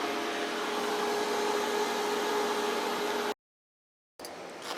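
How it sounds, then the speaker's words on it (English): Arc welding powered by an off-grid 7-star inverter gives a loud, steady crackling hiss that cuts out abruptly into silence, then resumes briefly near the end. "So there are all the amps while we're welding out of this 7-star inverter."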